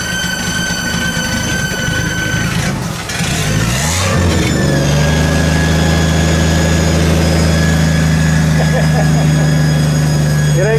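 A carbureted engine freshly running after carburetor work, its idle dominated by a loud, steady squealing whine plus a low droning hum, briefly disrupted by a revving surge before settling into a sustained, even idle close by.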